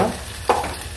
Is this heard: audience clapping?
no